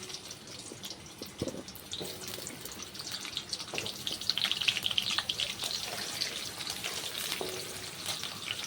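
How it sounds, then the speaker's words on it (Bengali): Cut potatoes dropped into hot oil in a kadai for a Bengali chingri potol dish sizzle and crackle steadily, the frying swelling louder midway, with a few utensil clinks and no talk. "তেল দিয়ে দিচ্ছি, আর ওই তেলের মধ্যে আমি যে আলুটা কেটে রেখেছিলাম ওই আলুটা এখন দিয়ে দিচ্ছি।"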